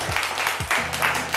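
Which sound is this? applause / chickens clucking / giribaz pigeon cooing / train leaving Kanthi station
applause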